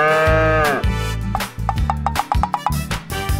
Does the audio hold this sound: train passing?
no